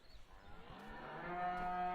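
A cow on a farm gives one long, rising moo that swells close and clear over faint outdoor background, with no talk.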